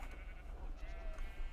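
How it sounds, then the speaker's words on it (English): Rainbow sheep bleating in Minecraft, a faint high tone rising over a low steady hum, with no talk during the sound. "They're all rainbow sheep?"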